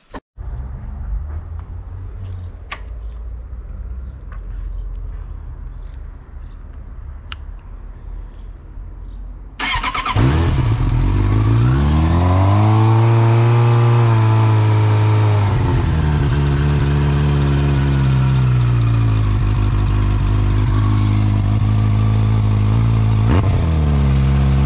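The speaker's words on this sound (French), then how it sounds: "Je vais démarrer, je vais rabattre la béquille et je vais mettre la première. Elle va caler." A motorcycle with a faulty side-stand switch sits quiet with faint background sound, then its engine fires up loud and close and runs with a steady, slightly wavering idle to the end.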